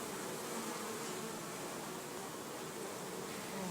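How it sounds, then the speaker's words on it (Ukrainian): European hornets at a nest built inside a hollow log beehive fill the air with a dense, continuous buzzing, steady and moderately loud with no voices. "в цій колоді зробив собі гніздо європейський шершень, найбільша оса нашої природи"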